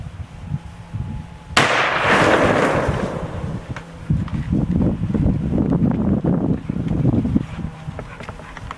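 SKS rifle round striking a water jug outdoors: a sudden loud crack and splash burst, followed by sustained spraying, wind-buffeted rumble and sloshing water with no speech.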